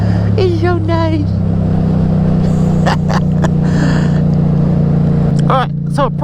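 Steady low engine drone from a 2021 Yamaha MT07 motorcycle's exhaust, running continuously and fairly loud throughout, with a voice talking over it in bursts.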